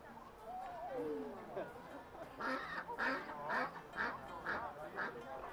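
Ducks quack in a rapid series of short, nasal calls, fairly close, at Heaton Park, with some background voices and rustling underneath.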